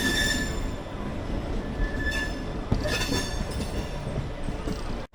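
A local train on the Kharagpur–Puri line rolls steadily with a continuous rumble and rattle of wagons, with faint wheel squeal and clatter throughout.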